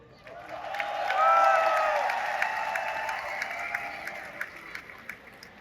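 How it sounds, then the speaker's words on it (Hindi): An audience at a seminar breaks into loud applause that swells quickly, holds as a dense wash of clapping, then thins out into scattered claps. "बस इतनी ताली।"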